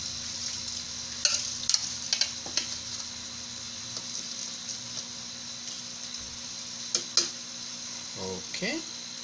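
Galunggong fish goes into a pan of simmering adobo sauce, with a constant soft frying hiss, scattered utensil scrapes and clinks, and a muffled voice briefly in the background.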